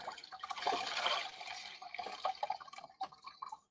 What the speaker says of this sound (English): then you're ready to wring out your sponge